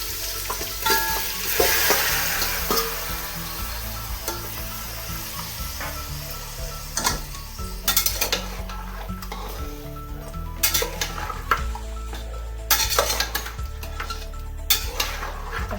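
Mutton pre-coated with turmeric and salt frying in a pot for a spicy mutton rassa, with a steady close sizzle broken by repeated scraping and clanking stirs of a utensil against the pot.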